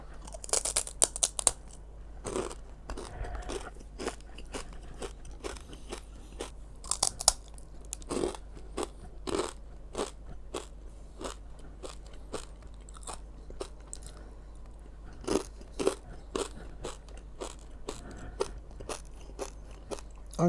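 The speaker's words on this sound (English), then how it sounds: "cannot stop crunching, eating, keep one the next one" Super crunchy fish skin snack being bitten and chewed up close, with sharp irregular crunches and crackles repeating throughout, loud and near, with no talking.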